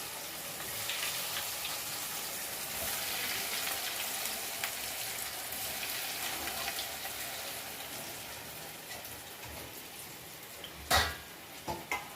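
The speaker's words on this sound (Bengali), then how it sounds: "এখন এগুলো আমি একটা একটা করে এই তেলের মধ্যে ছাড়বো।" Vegetable pieces frying in hot oil, a steady soft sizzle and crackle running throughout at moderate level, with a few sharper clinks near the end.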